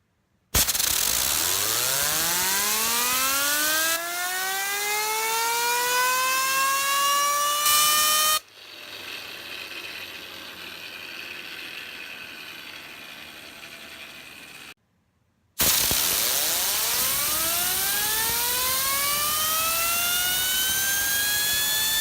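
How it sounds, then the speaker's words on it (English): An Eving Thor's Hammer novelty fidget spinner whirs loudly, its pitch rising then slowly falling through a long spin; it is spun up twice with a quieter gap between, and no voices are heard. "I'll spin it up and see how long it spins."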